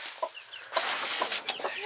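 Several backyard chickens cluck in short, irregular bursts at close range, with a louder cluster of calls in the middle and no talking.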